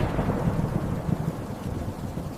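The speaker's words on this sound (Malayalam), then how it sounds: "അങ്ങനെ ഒരു ദിവസം വലിയ ഇടിയും കനത്ത മഴയും പെയ്തു." Thunder rolls under heavy rain in a storm, a steady, dense low rumble with the downpour hissing continuously throughout, loud and close with no voices.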